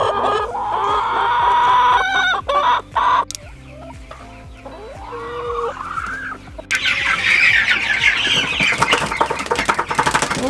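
Meat chickens being moved out onto grass cluck and squawk loudly and continuously up close, with a rooster-like crow rising through the busy flock noise.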